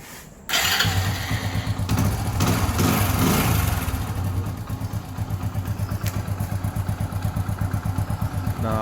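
A motorcycle running on a 12V LiFePO4 battery cranks and fires up, then settles into a steady, close, loud idle with an even rhythmic chug.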